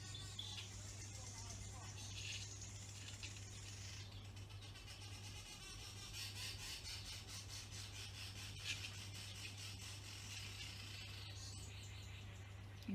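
A pool cleaner runs outdoors as a low, steady hum while a bird chirps faintly and intermittently above it, the whole scene quiet and distant.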